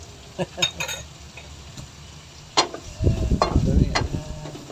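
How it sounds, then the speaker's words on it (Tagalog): Chopped onion for chicken kaldereta sizzles in a hot pan as it is stirred. A few soft clicks come first, then a loud, crackling sizzle swells up close for the last seconds. "Yun, nilagay ko yung onion. Okay, haluin natin."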